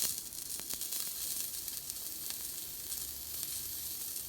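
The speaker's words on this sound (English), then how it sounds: "What you're probably hearing, that little popping, is that's an old candle holder." Old candle holder wax heated on a stove sizzles softly and faintly, with scattered small pops and crackles over a steady hiss, and no voices.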